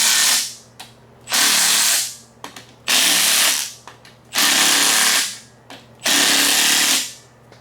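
A power tool works a Holley oil pan installation on an engine block, a close, loud series of four whirring bursts, each about a second long with short pauses and small clicks between, and no talking.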